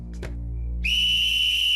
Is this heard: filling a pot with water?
no